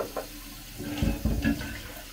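Running water poured over food in a home kitchen, a close splashing, gurgling flow that swells and spatters irregularly for a couple of seconds.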